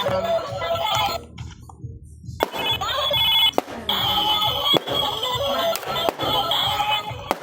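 A cellphone rings loudly in a repeating electronic ringtone pattern, with sharp bursts and clatter interrupting it and short gaps between the ring phrases.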